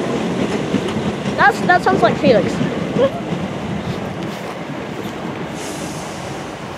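A Class 455 electric train rumbles past close by at Balham with a steady roar, a few squeals and clanks rising early on, and someone speaks briefly over the noise.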